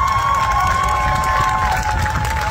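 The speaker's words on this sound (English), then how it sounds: "give them a big round of applause" An airshow crowd outdoors breaks into applause and cheering, a continuous mass of clapping and voices over a steady high engine-like whine that holds throughout.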